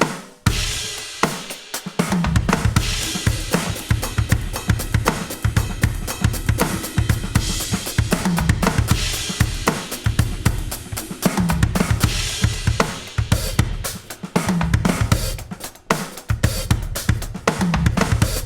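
A drum kit plays a busy, fast fill pattern in 6/8 time that moves around the drums, loud and close, with steady dense hits and no talking.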